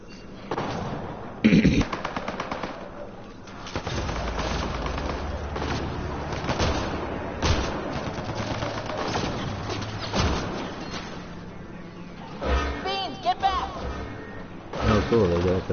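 Turret gunfire in the video game Mass Effect Andromeda, with rapid bursts of automatic shots, heavier blasts and combat effects over a game soundtrack, fairly loud, with a spoken voice over parts of it.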